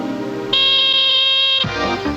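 A fire alarm in a bedroom rings out with a loud steady high-pitched tone lasting about a second, then cuts off into a jumble of other sounds.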